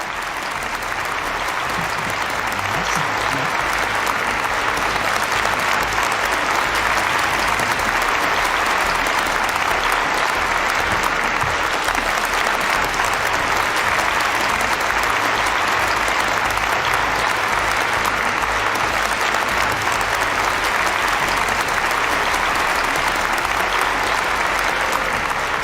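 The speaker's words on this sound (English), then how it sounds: "with a big round of applause." A large audience at a peace prize award ceremony breaks into a long, loud, sustained round of applause, a thick continuous roar of clapping that holds steady from start to finish.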